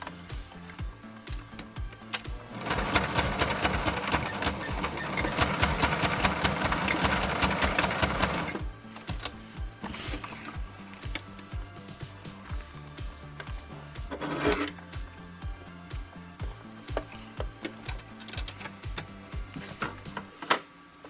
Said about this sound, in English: we're just going to make a straight stitch a couple times to secure that leg elastic in place